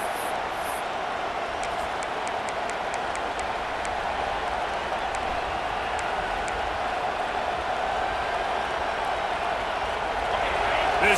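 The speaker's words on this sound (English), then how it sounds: "This crowd rising up, sensing that its defense needs some help." Stadium crowd cheering in the video game EA Sports College Football 26, a steady roar of massed voices that swells slightly toward the end, heard under continuous play-by-play commentary.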